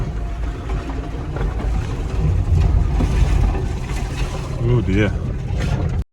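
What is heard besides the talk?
Toyota Prius C driving off-road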